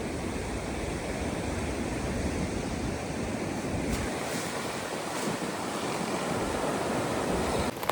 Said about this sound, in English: Some pretty substantial winds.